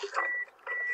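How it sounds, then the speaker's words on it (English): A car's door-open warning chimes in two electronic beeps with a short gap between them, close and clear with no talk. "it's beeping because the door's open"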